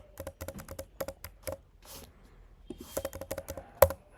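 Quick bursts of typing on a computer keyboard as a SQL where clause is entered for an ecommerce funnel query in MySQL, close and fairly quiet, with irregular clusters of key taps and short pauses.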